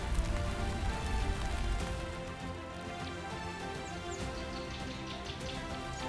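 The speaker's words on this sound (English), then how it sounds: "winter arrives not with snow, but with the short rains that awaken the earth from its slumber" Steady rain of Kenya's short rains falls across the open landscape, a dense, even hiss of drops that is heavier for the first two seconds and then settles to a constant patter, with no voices.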